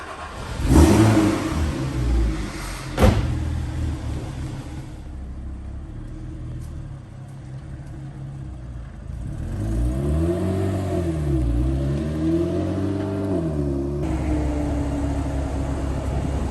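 A Porsche Cayman R with Hawk brake pads being bedded in, its engine rumbling and revving loudly as it accelerates through rising and falling gear sweeps, steady and close, with no voices.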